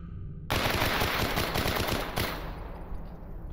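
Gunfire in the video game STALKER erupts in a loud, rapid automatic burst lasting a couple of seconds, followed by fading echo and a couple of softer trailing shots.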